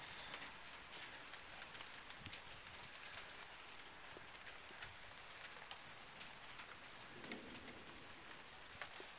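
Steady rain falls outdoors in a continuous, even hiss of drops pattering on surfaces, fairly quiet, with no voices.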